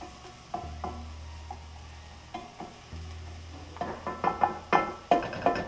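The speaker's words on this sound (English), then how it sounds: "Let those shallots slightly brown." Shallots fry in a pan for a piccata sauce, giving a faint soft sizzle under a low hum, followed by a run of sharper crackles and taps that grow busier toward the end.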